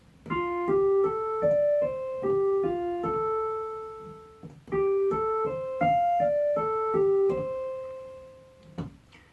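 Guitar plays a pentatonic scale pattern beginning on F, single clean notes picked in a quick ascending-and-descending run, repeated twice, ringing clearly and alone without any talk.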